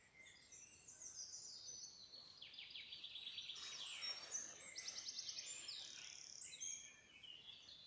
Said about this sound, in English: We'll just listen to these birds singing.